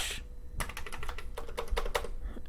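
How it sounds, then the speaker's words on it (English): Keys clatter on a Commodore 64 keyboard in quick, uneven bursts of typing, close and clear, with a short pause partway through. "let's test this keyboard"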